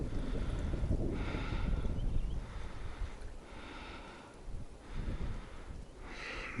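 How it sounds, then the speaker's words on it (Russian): Wind gusting by a river in spring flood, roaring and buffeting the microphone in uneven surges, loud and close with no voices. "Ветер, зараза, не прекращается."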